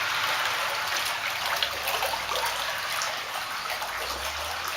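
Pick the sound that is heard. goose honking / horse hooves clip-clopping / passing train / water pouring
water pouring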